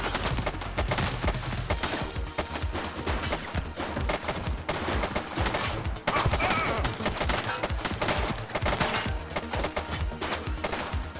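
Sustained, dense gunfire fills a police video game scene, rapid overlapping shots continuing steadily throughout at close, loud volume with no talk.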